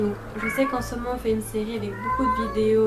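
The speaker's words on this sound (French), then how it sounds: "c'est mon chat qui miaule" A pet cat meows several times in a wavering, drawn-out way, close to the microphone, while someone talks continuously over it.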